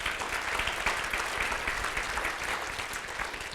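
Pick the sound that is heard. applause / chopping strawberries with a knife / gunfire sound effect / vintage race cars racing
applause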